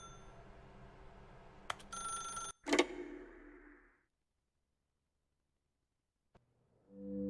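A telephone rings in the video game The Stanley Parable, a brief bright electronic ring with a sharp click, then the sound fades into near silence before a faint knock and a rising tone at the end.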